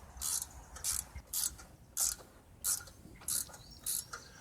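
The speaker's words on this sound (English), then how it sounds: "I will loosen those with a socket, then use a wrench to go the rest of the extraction" A socket ratchet loosens 3/8 bolts on the engine shroud of a 2009 John Deere LA105 lawn tractor, giving seven short bursts of rapid clicking at a steady rhythm, close and fairly quiet, with no talk.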